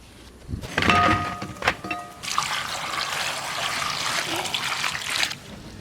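Okra rinsed under running water in a home kitchen, a close splashing trickle with brief handling clatter near the start, then a steady stream that cuts off.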